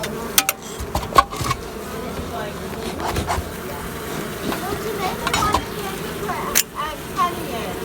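A honey bee colony buzzes steadily throughout a cutout from a farmhouse eave two stories up, with scattered knocks and handling noises over the drone.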